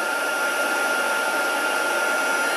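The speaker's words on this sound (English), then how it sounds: "I'm going to start my heat gun going" A heat gun runs steadily for heat embossing on a handmade card, giving a loud, continuous blowing whir with no change in pitch and no speech.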